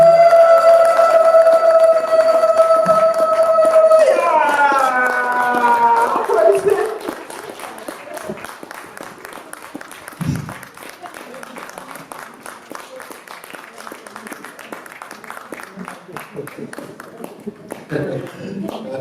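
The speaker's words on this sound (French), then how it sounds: "Si vos applaudissements, s'il vous plaît." Applause at a women's day celebration in a hall: a long, even rush of many hands clapping, heard first beneath a loud sustained musical tone and then continuing alone at lower level until the end.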